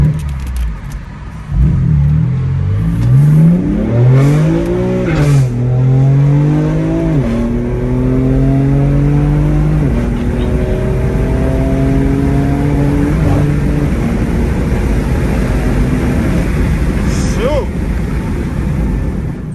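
Straight-piped BMW M4 with a manual gearbox, its exhaust loud and close as it revs up through the gears while driving, with rising and falling engine tones and shifts, plus brief talk over it.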